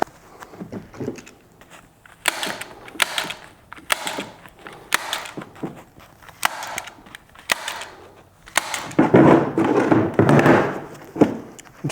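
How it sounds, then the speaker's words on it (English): A hand stapler fastens the vapor barrier over fiberglass insulation on sheet-metal ductwork fittings, giving a series of close, sharp snapping clicks about every half second, mixed with rustling and crinkling of the facing material. "I'm stapling it down as far as I can."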